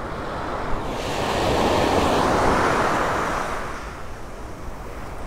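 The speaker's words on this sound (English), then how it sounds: "These waves are kicking up a little extra serotonin" Ocean waves roll in at Vanderbilt Beach in North Naples, Florida, one broad surge swelling and receding over a few seconds, close and loud with steady wind noise and no talk.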